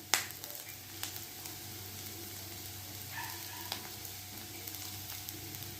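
Onions with curry leaves and ginger-garlic paste sautéing in a pan, a soft steady sizzle with occasional sharper spatters and light scraping, fairly quiet and close, no voices.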